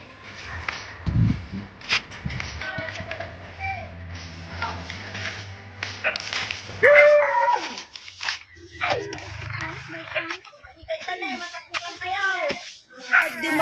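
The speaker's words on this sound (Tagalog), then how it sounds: "Ayan guys, may aso." Dog on a rural village path in the Philippines, a few short barks and whimpering whines scattered between quiet stretches, with people talking and moving nearby.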